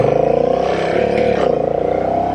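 A Honda Rebel 1100 with the DCT automatic gearbox accelerates hard, its big twin engine droning loud and steady with a deep pulsing note as it pulls.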